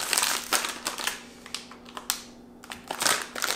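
A Halloween horror subscription box is torn open up close, with sharp bursts of crinkling, crushing packaging separated by brief quiet gaps.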